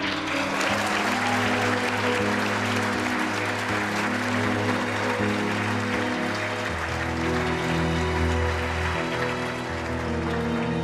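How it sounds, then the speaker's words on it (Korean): Sustained audience applause at a sponsorship-day event, a dense, steady roar of many hands clapping for the full length with music playing underneath. "여러분 큰 박수 부탁드립니다."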